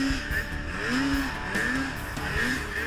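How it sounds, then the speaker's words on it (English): Polaris 800 RMK snowmobile in the Axis chassis with a new 800 HO engine and a 155-inch, 3-inch track, revving in a few rising and falling pulls with a whining, buzzing drone at moderate distance. "This is the all-new 800 Polaris RMK in the Axis chassis."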